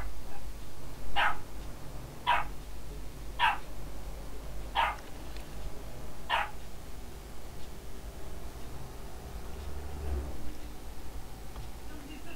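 A dog barks in the background during an Euro Truck Simulator 2 drive, five evenly spaced sharp barks at moderate distance over a low engine hum, then quiet with a faint voice.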